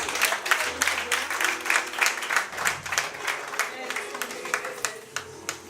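Audience applause following a speech at a French-language event, steady clapping spread through the room with voices speaking over it throughout.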